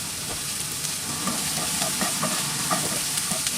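Onion and curry leaves sizzle steadily in a hot pan for a brinjal tomato curry, the frying close and continuous, with a few soft stirring knocks.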